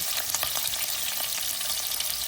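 Onions hit a ladleful of hot oil in a pan for Chinese egg fried rice, a bright continuous crackling sizzle with faint stirring, heard alone and close.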